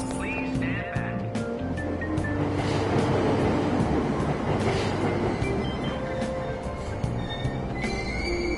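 A Tokyo subway train pulls out of Aoyama-itchome station in a video game, a loud continuous rumble of wheels and motors with squealing tones and faint announcement voices mixed in.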